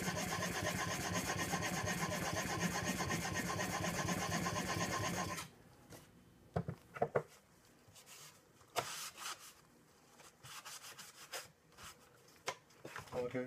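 Coffin smoother plane iron pushed back and forth across a sharpening stone, a steady rhythmic scraping that runs for several seconds then stops, followed by scattered faint taps and handling noises.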